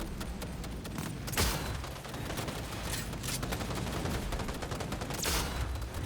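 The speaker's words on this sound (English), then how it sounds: "This man is shooting at me through a wall" Gunfire in Cyberpunk 2077, with an enemy shooting through a wall: dense, continuous rapid fusillade with several sharper louder shots standing out, close and loud, no talk over it.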